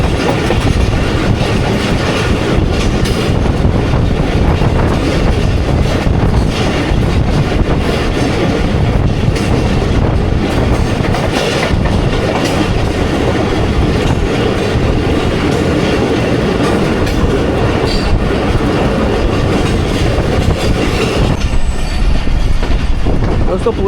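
The Jaffar Express runs at speed on the Khanewal–Multan track while nearing Multan Cantonment station, a loud continuous roar of wheels and rails with clickety-clack and occasional squeal, sustained close by throughout.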